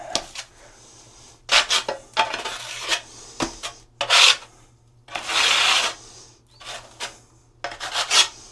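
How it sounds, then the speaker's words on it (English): A trowel scrapes and spreads thinset mortar for 12 x 24 inch tile in a series of close, gritty rasping strokes of irregular length with short gaps, loud and without talk. "Just use directional troweling. And back butter the tiles."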